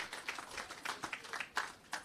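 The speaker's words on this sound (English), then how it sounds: "he deserves a big rousing round of applause following his sectoral presentation yesterday" Faint, scattered handclaps from a small audience at a Ministry of Agriculture, Fisheries and Mining media briefing, coming as irregular bursts rather than sustained applause, with some soft background murmur.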